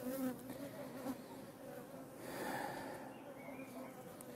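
Honey bees buzz steadily at an open beehive in late May, a dense continuous drone that swells and fades slightly while frames are handled nearby.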